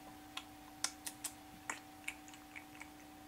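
A voice mimics the strange clicking of a roughly five-foot-tall creature, with a run of sharp, irregular clicks spaced apart and fairly quiet, alone over a low steady hum.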